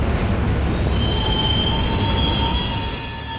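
Steady, loud train rolling in the Adam Wolfe video game, with sustained high-pitched wheel squeal and a constant rumble of rail cars passing close by throughout.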